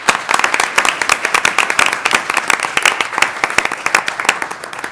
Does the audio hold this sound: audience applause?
yes